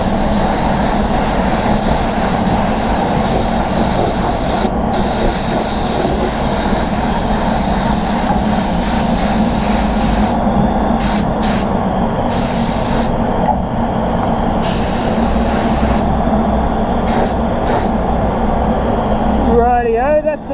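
Spray gun laying a final clear coat on the outside of a car panel, a steady loud hiss running the whole time with short breaks where the trigger is released, and someone talking over it.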